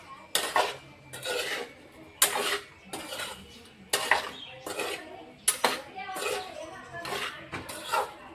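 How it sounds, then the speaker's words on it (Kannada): A paneer gravy base frying in a pan, stirred with a metal spoon in repeated loud scraping and clanking strokes, roughly one per second, with a voice and faint child chatter in the background. "ಹಾಗಾಗಿ ಇದನ್ನು ಸ್ವಲ್ಪ ಫ್ರೈ ಮಾಡ್ತೀನಿ ರೀ ಫಸ್ಟಿಗೆ"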